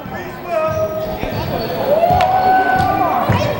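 Basketball arena crowd at an amateur league game between the Hawks and Pistons rising into a loud murmur of reaction after a traveling call, with whistles, scattered shouts and a commentator talking over the din.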